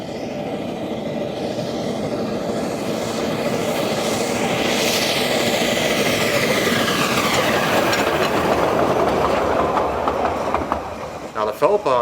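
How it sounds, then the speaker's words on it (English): A WW1-era Feldbahn narrow gauge steam locomotive runs close by, its steady chuffing and rattling wheels on light rails filling the air continuously before easing off near the end. "Now the Feldbahn is an unusual locomotive."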